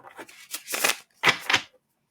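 Tarot cards being shuffled by hand at close range, a series of soft riffling bursts with brief pauses between them, ending in quiet.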